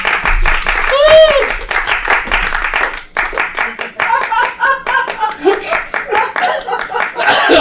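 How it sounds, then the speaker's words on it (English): A comedy show audience claps for a first-time comedian, with brisk applause and some laughter. A voice speaks over the clapping, and the applause gives way to talk and scattered claps. "Give her a nice round of applause."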